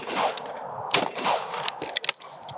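A shotgun fires a BMP National cartridge at a clay target outdoors: one sharp report followed by a few quicker, lighter cracks and clatter, fairly distant and at moderate loudness.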